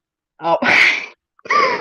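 A single human sneeze in a classroom during a lecture, preceded by a short vocal intake and followed by another brief burst, fairly close and loud.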